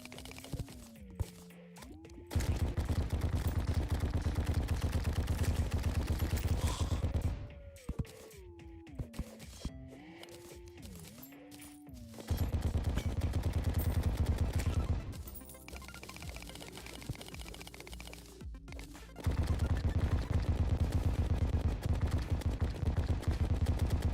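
Rapid bursts of exploding bullets firing in the game Terraria during late hardmode combat, dense crackling gunfire in several long stretches broken by short gaps with tonal in-game effects.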